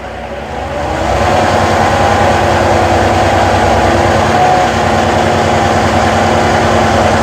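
A truck's diesel engine idles at around 1000 to 1200 RPM with its air compressor loading during a pre-trip check, a loud, steady low rumble with a continuous mechanical drone after a brief quieter start.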